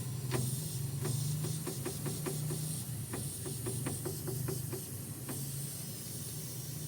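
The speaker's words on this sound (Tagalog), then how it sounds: "yung naririnig kong kalampag yan o oh, ganyan na ganyan na tunog eh" Irregular bursts of metallic rattling clatter from a Suzuki DA17V minivan over a steady low engine hum, some in quick clusters, fairly close.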